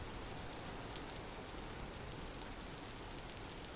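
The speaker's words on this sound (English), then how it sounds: "Still raining." Steady rain falling in the survival game Vintage Story, a dense even hiss of drops on surfaces, continuous and quite faint, with no other sounds standing out.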